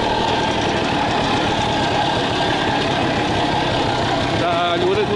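An IZh Planeta Enduro motorcycle engine running without a battery on its generator and ignition, a loud continuous rough chugging drone close by, with a voice faintly present.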